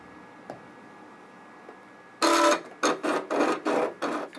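An embossed metal sheet is sanded by hand after a quiet start, a string of six close scratchy rasping strokes in a steady back-and-forth rhythm.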